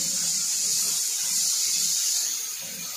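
Capsicum and cabbage frying over high heat for restaurant-style chicken chowmein give a steady, close sizzling hiss that runs unbroken for the whole stretch, with no one talking.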